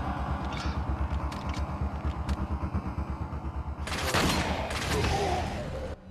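Video game gunfire in Resident Evil 4: rapid, rhythmic bursts of shots through the first seconds, then a dense, loud volley of automatic fire near the end, set over a steady engine-like rumble.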